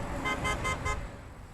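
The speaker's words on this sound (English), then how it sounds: "Honks for the hero." Car horns honking in tribute to a fallen Marine along Wentzville Parkway, a few overlapping toots in the first second over steady traffic rumble, then fading.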